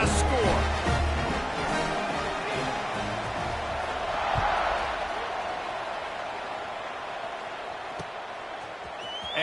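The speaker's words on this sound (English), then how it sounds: "this crowd is buzzing after that last score" Stadium crowd at an NCAA football game keeps up a loud, steady roar and buzz with scattered shouts, heard broadly throughout.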